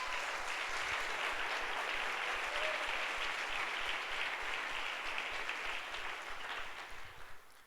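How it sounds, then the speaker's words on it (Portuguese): A church congregation at a Sunday service applauds loudly and steadily, a dense sustained wash of clapping that fades slightly toward the end. "Você pode dar um forte aplauso ao Senhor Jesus por isso?"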